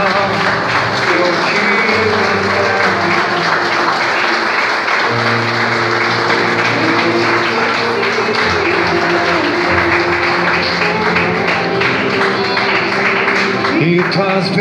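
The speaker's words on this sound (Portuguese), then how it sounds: "E quem orou com fé, aplauda ao Senhor Jesus, mas aplauda a Ele" A church congregation applauds continuously and loudly throughout, with steady broadband clapping and sustained tones from music or singing beneath it.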